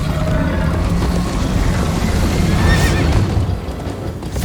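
Galloping hoofbeats and repeated whinnying from a horse in the Minecraft Story Mode video game, loud and continuous throughout with no voices.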